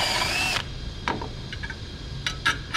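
A power drill whirs loudly for about half a second, boring out a hole to fit a leftover converter bolt during an electric fan conversion on a 1999–2004 Silverado, followed by faint clicks and taps of handling.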